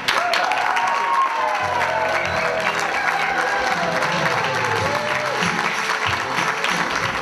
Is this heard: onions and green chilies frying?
no